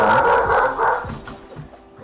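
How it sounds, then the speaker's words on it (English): A pet dog gives a short, loud burst of barks and yips nearby, fading out over about two seconds. "You hear my dog right now?"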